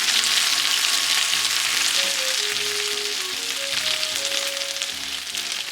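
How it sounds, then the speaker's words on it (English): Okonomiyaki sauce sizzles and grills on a hot frying pan with a loud, steady, dense crackle throughout, while soft background music plays underneath. "The okonomiyaki sauce should be left on the pan to give it a nice, savory grilling sound."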